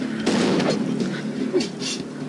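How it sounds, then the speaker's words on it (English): A shotgun blast in the pirate video game Pirates of the Caribbean New Horizons, a sharp boom with a decaying tail followed by a second, smaller impact, heard close and clear. "Okay, shotgun."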